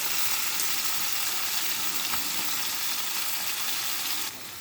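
Washed brinjal pieces fry in hot oil with cumin seeds, giving a steady, loud sizzle with faint stirring, close and uninterrupted, ending abruptly.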